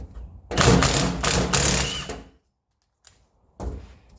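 Allen bolts being driven out of a 1985 Mercedes 300SD front suspension part held in a vise: a loud, rattling mechanical whir of nearly two seconds, a brief pause, then a second shorter burst, with no talking.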